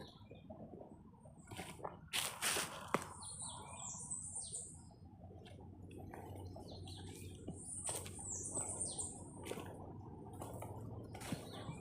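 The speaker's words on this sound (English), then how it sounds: "I love the birds singing." Birds sing along an old train trail, with bright chirps and short whistled calls scattered through the air over faint rustling outdoor background, a few louder close notes early on.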